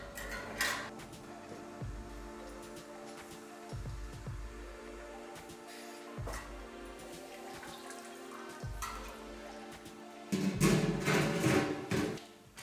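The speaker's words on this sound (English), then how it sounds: "I fill the pots with water." Water runs and splashes into large metal soup pots in a kitchen in short bursts, with clanks of cookware between fills and a louder gush near the end.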